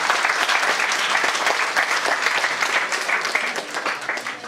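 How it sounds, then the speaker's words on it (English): Audience at a Model United Nations conference applauds warmly, a steady, dense patter of many hands clapping close by, sustained evenly and tapering slightly at the end, with no speech over it. "Ladies and gentlemen, could we have a big round of applause for them?"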